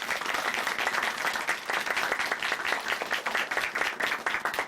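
Studio audience applause on a Korean Christian testimony talk show, a dense, steady wash of many hands clapping that fills the whole moment at close, even loudness.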